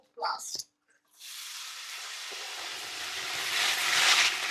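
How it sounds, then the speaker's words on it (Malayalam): Bread sizzles in hot oil in a home kitchen: after a brief voice at the start, a steady broadband frying hiss takes over and grows slightly louder toward the end. "അവള് മറ്റേ ബ്രെഡ് ഫ്രൈ ചെയ്യാൻ വെച്ചേക്കുന്നു."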